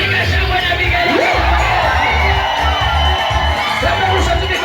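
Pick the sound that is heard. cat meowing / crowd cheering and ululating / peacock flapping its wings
crowd cheering and ululating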